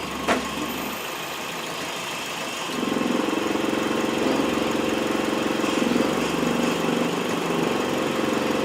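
A car engine idles steadily, then about three seconds in its tone shifts to a lower, heavier hum and grows slightly louder as the transmission is put into drive, running on continuously with a rough, mechanical character and no talk.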